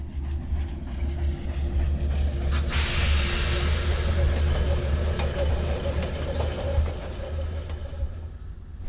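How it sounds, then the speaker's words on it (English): A ghost train in the Sherlock Holmes Crimes and Punishments video game rolls past with a loud, steady rumble, a hiss of rushing air and faint rhythmic rail clatter, staying close and full throughout. "Что ж это могло такое быть? Поезд-призрак?"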